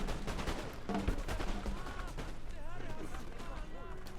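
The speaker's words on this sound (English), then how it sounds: "let's watch the armies open fire" Army musket volleys in a battle video game, Ottoman forces in a winter online battle: a rapid series of crackling gunshot bursts and booms, close and dense, with someone talking over the firing.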